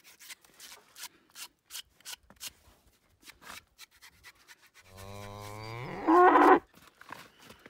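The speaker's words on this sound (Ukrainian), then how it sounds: "Це корейські свині, вони чорні від рождения." Korean black pigs on a Ukrainian village farm make rhythmic scraping, chomping noises, then one close, loud, drawn-out grunting squeal that rises and breaks off before the scraping resumes.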